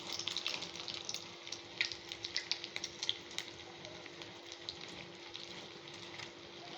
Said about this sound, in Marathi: असं चांगलं लाल आचेवर म्हणजे याच्यावर लाल ब्रेड बनवून घ्यायचं. असं लाल त्याला फ्राय करायचं.